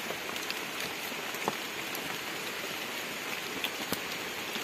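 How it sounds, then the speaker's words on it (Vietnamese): Heavy rain pours down steadily in a forest, a dense, even hiss of drops on leaves and surfaces with scattered louder splashes, close and continuous and without any voices. "Mưa quá."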